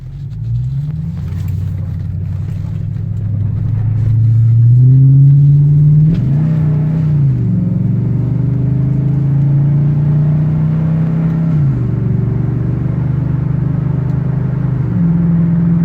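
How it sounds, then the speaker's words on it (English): A Ford F250 Super Duty 6.2 with a Dynomax exhaust accelerates under normal throttle with the windows up, a loud steady engine drone rising through the gears with a brief shift dip and swelling again, no talk. "we'll do a little bit of let's do a normal acceleration first here"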